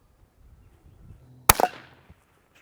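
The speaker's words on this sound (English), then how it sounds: "We're going to shoot it one more time." A CCI Quiet-22 .22 rifle fires once at a coconut: a single sharp, fairly quiet crack followed by a brief impact rattle, over near-silence outdoors.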